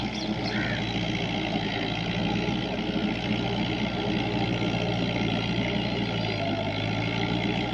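A Fiat 640 tractor labours while puddling a waterlogged field with a rotavator, its engine giving a steady, continuous mid-pitched drone close by for the whole stretch.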